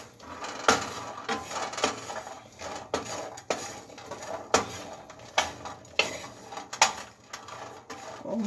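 Cashew nuts roasting in a pan are stirred with a utensil, giving irregular clinks and scrapes against the pan, some sharp and some soft, spread across several seconds at close range.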